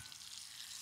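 Butter and beef with herbs sizzling in a pan, a brief steady hiss of frying, quiet and continuous, no talk.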